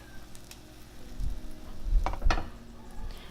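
Beaten egg sizzles and fries in a pan of garlic butter and oil for an omelette, a soft steady crackle with a few louder spits and bursts near the end.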